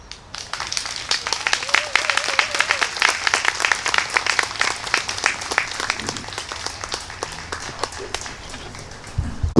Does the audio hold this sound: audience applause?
yes